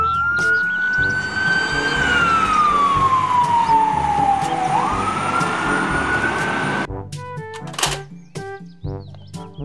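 A toy fire truck plays an electronic siren, a loud wailing tone that rises, slowly falls and climbs again for about seven seconds, followed by plastic knocks and rattles from the toy.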